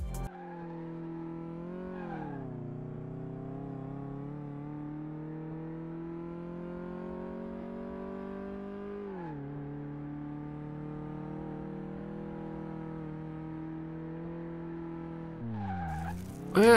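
A car in Car Mechanic Simulator 2018 on a race track, engine droning and rising with a long sustained tire squeal, then a sharp skid near the end, close and steady with no talk.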